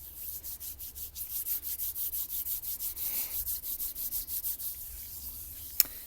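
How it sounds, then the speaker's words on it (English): Two palms rubbing briskly together to warm them, a steady run of soft, rhythmic swishing strokes, close and quiet, with a small sharp tap near the end and no talking. "We could also rub the hands together to warm them up a little bit."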